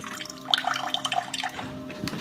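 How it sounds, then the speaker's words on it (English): Cold water running from a kitchen tap into a sink, a short splashing, trickling stream with bright drips and gurgles, close by and fairly quiet. "This is our cold water pressure in the kitchen."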